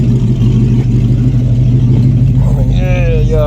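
An Oldsmobile car engine idles and rumbles up close with a steady low drone while being moved around a lot, and a voice speaks briefly near the end.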